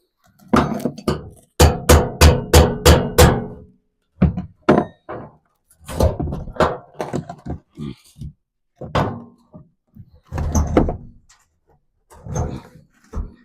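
During a bathroom renovation, a rapid series of sharp knocks and thunks is followed by scattered scraping clunks and creaks as something is hammered and pried loose with a hammer, nearby.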